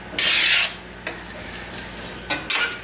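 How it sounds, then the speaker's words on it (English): Spoon stirring garlic shrimp rice with thyme, parsley and turmeric in a pot, scraping the bottom in two loud rasping strokes separated by a lighter scrape and a quieter stretch, close up and with no voices. "Then give that a stir, kind of scrape the bottom of the pot"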